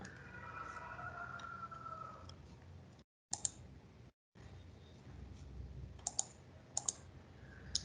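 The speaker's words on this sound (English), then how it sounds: "here in this test function, you can type like hello" Sparse clicks of computer keyboard typing, faint and close, scattered in short bursts over a low steady hum with brief dropouts.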